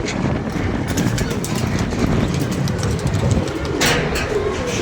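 Flock of pigeons cooing close by, soft repeated low coos layered over a constant rustling background, with a few sharper clicks and wing-like bursts scattered through.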